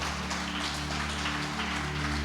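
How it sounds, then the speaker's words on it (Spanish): Applause from a church congregation honoring the fathers, a steady dense clatter of many hands clapping at moderate distance, sustained throughout with a low hum beneath. "Las mujeres, denle un aplauso a los hombres, pues."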